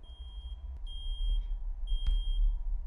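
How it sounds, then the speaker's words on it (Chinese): An alarm clock in a horror video game beeps in short, high-pitched tones, repeating in spaced pairs with sharp clicks between them over a low rumbling background. "有个闹铃。"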